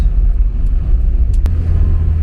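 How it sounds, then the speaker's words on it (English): A stock 1982 Porsche 944 engine pulling under acceleration at low revs around 2000 rpm, heard from inside as a loud, steady low rumble with road noise, a brief sharp click partway through. "Engine pulls nicely. I'm only at 2000 and it's plenty of torque"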